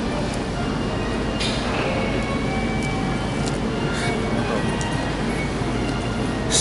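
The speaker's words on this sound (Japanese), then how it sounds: "市営地下鉄桜通り線でございます。" Inside a municipal subway car on the Sakura-dori line, a steady, loud rolling rumble continues throughout, with occasional faint metallic clinks and squeaks.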